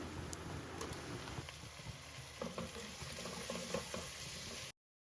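Chicken curry with roasted ground coconut cooking in a pan: a steady, soft sizzle and bubbling, with occasional clinks and scrapes of stirring, fairly quiet and close.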